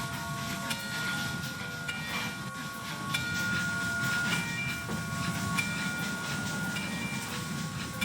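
Train running along railroad tracks in a train-driving game, a steady loud rumble with hissing and faint clickety-clack throughout, continuous and close.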